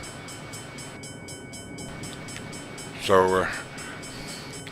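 Locomotive shutting down in Train Simulator 2015: a steady low mechanical hum whose higher tones cut off partway through, with a brief spoken word near the end.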